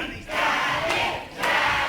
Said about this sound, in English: And the crowd here firmly behind Danny Haines, trying to will him on